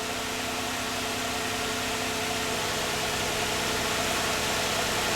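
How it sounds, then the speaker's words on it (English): A cold 4th-generation Nissan Maxima engine runs at a steady high idle, a continuous close mechanical drone with broad hiss and no speech. "Now once the engine comes off of the high idle"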